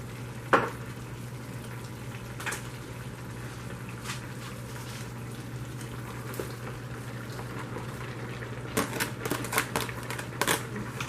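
Cabbage and carrots for chicken chow mein stir-fry in a pan with a steady low sizzle, broken by sharp clicks of a utensil scraping and tossing the vegetables, a cluster of quick taps near the end.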